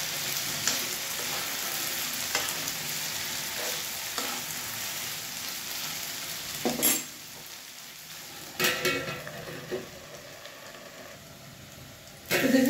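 Potato and tomato bhaji fries in a pan on high flame with a continuous close sizzle, broken by several scrapes and clanks of a utensil stirring against the pan.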